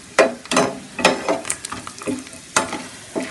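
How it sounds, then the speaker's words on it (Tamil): Peanuts fry in hot oil held in a ladle, giving a sharp crackling sizzle that swells in several loud bursts a second or so apart, close by and with no voices. "இதை நம்ம ஆயிலில் வச்சு அப்படியே பொறிச்சு போட்டுருவோம்"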